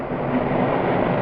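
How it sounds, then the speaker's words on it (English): A diesel streamliner train rushes past as a loud, steady rumbling roar with no voices. "A diesel streamliner."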